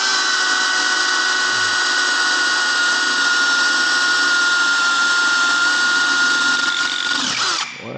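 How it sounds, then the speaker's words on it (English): A power drill whines steadily at high speed, grinding into a metal motorcycle part with a harsh, continuous buzz, then winds down at the end. "so I'm just going to drill on the side here"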